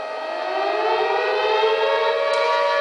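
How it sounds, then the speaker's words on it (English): A loud wailing siren tone rises steadily in pitch and sounds continuously from start to finish. "A siren was going off in his head."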